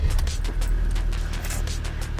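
A Ford Ranger Wildtrak's engine runs at a steady idle, a loud, close, low rumble that holds even throughout.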